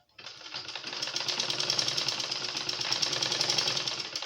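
A sewing machine stitching an elastic waistband runs in one continuous close, rapid mechanical whir, starting abruptly and holding steady for a few seconds with no talk.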